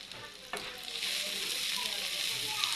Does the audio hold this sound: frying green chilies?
yes